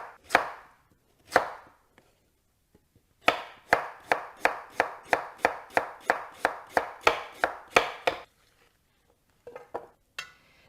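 Unpeeled radish sliced thinly with a knife on a cutting board: two separate chops, then a quick, even run of about fourteen crisp close strikes, with a few light taps at the end.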